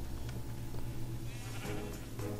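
Minecraft sheep bleating in the game, one or two brief bleats heard against a continuous layer of in-game background sound, with no voices.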